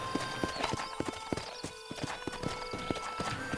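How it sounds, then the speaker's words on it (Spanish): Rapid clip-clop of horse hooves in the video game Red Dead Redemption at a steady gallop rhythm, close and clear, with a brief faint whinny. "tengo que ir con el caballo"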